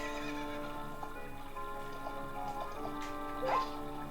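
A horse whinnies in The Legend of Zelda: Ocarina of Time over a steady background of game music, with faint hoof clip-clops and ticking, moderately quiet.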